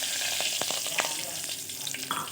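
Curry leaves hit hot oil after mustard seeds have started spluttering, giving a soft, steady sizzle with scattered small pops and crackles close by, with no voices.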